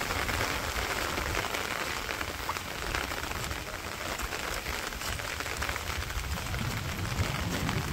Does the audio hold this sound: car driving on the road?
no